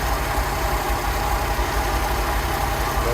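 A Rolls-Royce Silver Shadow engine idles steadily during carburettor tuning, a constant loud, close rumble with an even throb and no voices.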